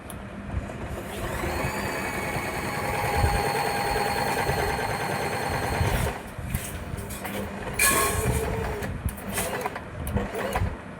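A Usha Janome sewing machine stitching in steady runs, its rapid mechanical whirr broken by brief pauses and a few louder clicks, with faint talk in the background.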